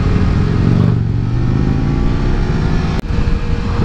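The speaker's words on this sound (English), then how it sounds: "Wow, what a line of cars." Steady roar of a line of cars rolling past in warm-weather traffic, a continuous loud wash of engine and tire noise with a brief dip near the end.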